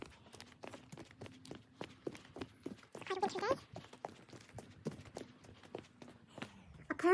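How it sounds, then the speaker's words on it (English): Footsteps walking on a flagstone ramp, a steady even series of crisp hard steps at close range, with a faint low hum underneath and a brief rustle partway through. "I'm just walking to the ramp, and the surface of the ramp is made of flagstones."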